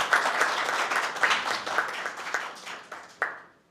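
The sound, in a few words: audience applause for debate teams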